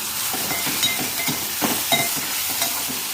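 Tomatoes fry in a pan for chicken gravy, a close, fairly loud sizzle with quick repeated stirring scrapes over a few seconds.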